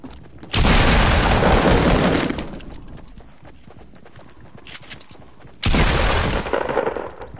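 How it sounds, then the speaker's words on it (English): Loud grenade blasts in a video game, two big bursts of roaring explosive noise with rumbling debris and scattered crackling shots between them. "Oh my god, what a freaking grenades, Jesus."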